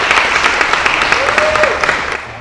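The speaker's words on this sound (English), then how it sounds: "Round of applause" An audience at a business conference applauds, sustained clapping filling the room at a steady, fairly loud level with some crowd murmur.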